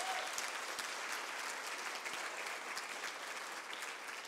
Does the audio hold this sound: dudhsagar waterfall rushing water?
no